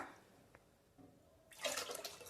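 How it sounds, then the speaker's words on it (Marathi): Faint, quiet start, then water pours with a soft splashing gush into a pot of sambar near the end of the short clip. "आता मी ह्यात साधारणपणे 4 वाट्या तरी पाणी घालणार आहे"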